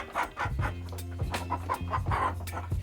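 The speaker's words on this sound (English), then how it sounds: "This is the chicken." Chicken clucking close by in a rural village yard, a run of short repeated clucks over a steady low hum.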